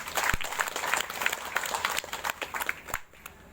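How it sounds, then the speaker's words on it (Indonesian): Audience applause during an Indonesian-language speech: a lively burst of many hands clapping that stays fairly dense, then thins and fades out in the final second. "Karena itu kita memberikan tepuk tangan untuk mereka berdua."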